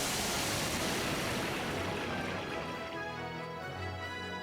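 Rushing waterfall in a Yu-Gi-Oh! The Falsebound Kingdom video game cutscene, a steady broadband wash of falling water that holds loud throughout, easing slightly near the end, with no voices.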